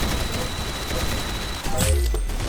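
Gunfire in the online shooter Arsenal, a burst of loud shots with a booming low tail near the end, following a stretch of steady background game noise.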